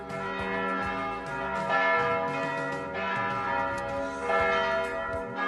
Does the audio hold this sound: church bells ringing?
yes